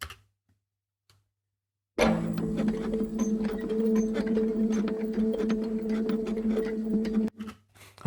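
After a couple of seconds of silence, a percussion part plays on its own with steady ticking hits over a low hum for about five seconds.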